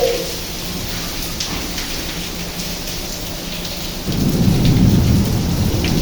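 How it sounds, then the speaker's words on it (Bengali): Heavy rain pours steadily while thunder rumbles loudly, the low roll swelling stronger toward the end during a downpour with frequent lightning. "মেঘ ডাকতেছে অনেক জোরে জোরে"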